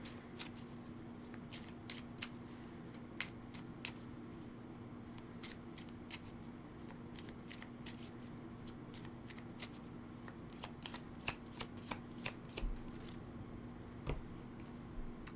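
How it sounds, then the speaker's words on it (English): Tarot cards being shuffled by hand, a steady run of soft riffling flicks and slaps close by, continuing throughout with no talking over them. "I feel like pulling one of these cards"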